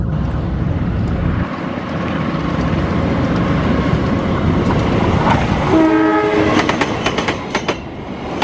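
A Bandung Raya local train in Indonesia rumbles past loudly and steadily with clattering wheels, and a horn sounds a brief harmonic blast partway through.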